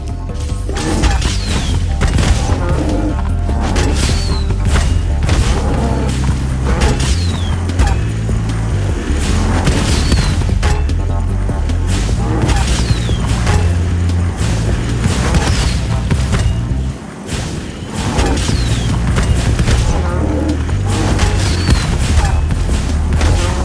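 Bombs exploding against a tough ox enemy in Spyro 2: Ripto's Rage, Reignited Trilogy: repeated loud booming crashes in steady succession for over twenty seconds, with a brief dip near the end, over busy game sounds and no talk.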